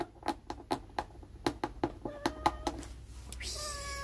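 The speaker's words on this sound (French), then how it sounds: "Voilà, mon chat qui miaule." A house cat meows repeatedly at home, around a dozen short, evenly spaced calls close to the listener, ending in a longer drawn-out meow.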